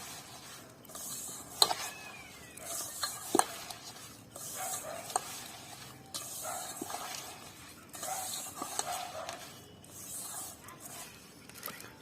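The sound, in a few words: mixing grated coconut with sugar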